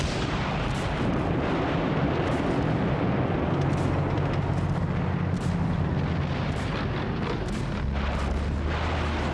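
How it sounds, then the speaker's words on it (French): A WWII Soviet artillery barrage, with hundreds of guns massed along the front, rolls as a dense, continuous roar of overlapping booms and blasts, loud and unbroken for several seconds. "Ce tir de barrage intense est suivi par un déferlement de fantassins et de chars d'assaut"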